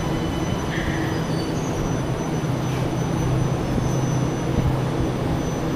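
An MRT train on the Kajang Line in Kuala Lumpur rumbles steadily from inside the carriage, a loud continuous roll with faint high squeals from the wheels and no voices over it.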